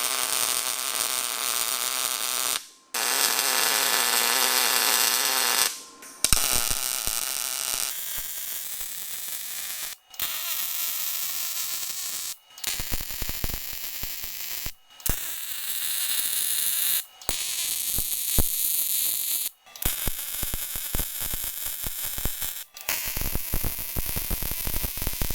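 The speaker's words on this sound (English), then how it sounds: "Now that the base is tacked together on both sides, we'll go ahead and weld these joints up." Arc welding on the joints of a steel toolbox cart base built from a Harbor Freight end cabinet gives a loud, close crackling buzz in long bursts of a few seconds each, separated by short pauses.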